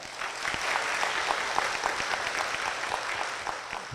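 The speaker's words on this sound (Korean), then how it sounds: "박수로 모시겠습니다" Church congregation clapping to welcome a deaconess forward, a sustained round of many hands with some distinct sharp claps standing out, steady and moderately loud throughout.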